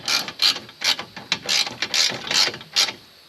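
A wrench ratcheting, about eight quick, close metallic clicking bursts in a steady back-and-forth rhythm.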